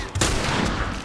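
A single sharp hunting rifle shot from The Last of Us, a loud close crack with a broadband burst that rings out briefly into a dense reverberant tail.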